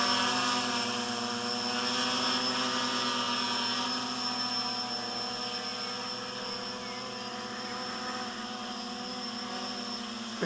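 A GAUI X500 multirotor drone hovers steadily nearby, its motors producing a continuous, even whine and hum at constant loudness throughout, with no talking.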